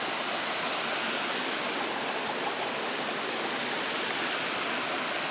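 Lost Creek Falls pours steadily in full flow, a dense, unbroken roar of falling water from nearby with no voices.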